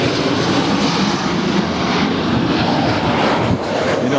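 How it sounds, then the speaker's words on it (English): A Sun Country jet airliner touches down at LAX with a loud, sustained engine roar and broadband rush that stays strong and steady throughout, close by and with no talk over it. "We've got one touching down as well"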